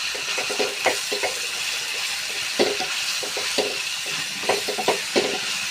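Curry leaves dropped into hot oil with green chillies for a Telugu egg curry crackle and sizzle continuously, with repeated scraping stirs standing out at a moderate, close distance.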